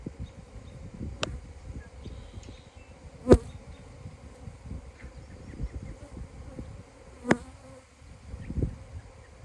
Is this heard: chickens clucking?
no